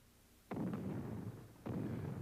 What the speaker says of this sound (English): With the sudden heavy artillery barrage, the French realize they are in a trap.